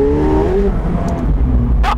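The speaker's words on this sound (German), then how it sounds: "nichts geht gegen good old V8 Power" A McLaren 750S V8 engine revs hard while driving, a loud continuous roar with rising engine tones that dominate throughout, ending with a brief hiss near the end.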